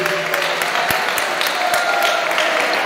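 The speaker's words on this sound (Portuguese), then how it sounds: "pode louvar a Deus com uma salva de palmas bem" Church congregation clapping, a dense sustained round of applause with sharp individual claps standing out, loud and steady throughout with no speech.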